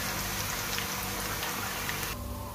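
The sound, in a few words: potatoes frying in hot oil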